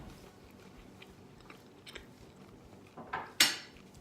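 Quiet clinks of cutlery on a plate and soft chewing of a low carb taco bowl, followed by a sharper, louder bite or scrape near the end.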